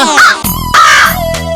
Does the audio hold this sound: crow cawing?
yes